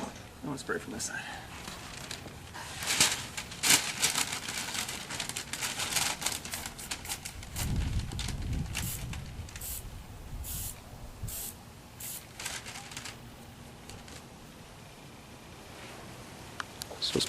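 Dye coating is sprayed onto a vinyl boat seat during a repair, coming as short and longer hissing bursts from a spray can with pauses between them and some rustling in the background.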